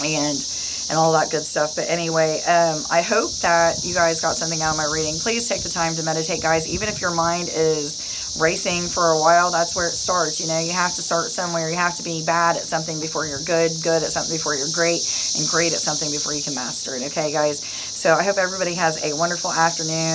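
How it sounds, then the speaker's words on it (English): Cicadas chirp outdoors in a constant high, shrill, pulsing buzz that runs throughout, steady and moderately loud in the background while someone talks continuously in the foreground. "I'm sure you're hearing those cicadas in the background."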